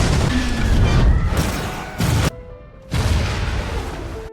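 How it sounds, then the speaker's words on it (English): A detonation in a giant killer shark movie blasts open an escape route with loud, close, rumbling booms and crashing debris that cut off abruptly, then return as a heavy roaring wash of noise. "Doyle detonates the explosion, clearing the way out"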